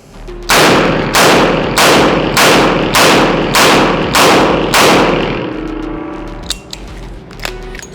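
Eight sharp, loud shots from a revolver firing .38 Special rounds at a range, spaced evenly about half a second apart, followed by fading echo and a few small clinks.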